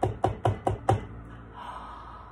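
Five sharp, evenly spaced knocks on a door ring out close and loud in quick succession, then fall silent.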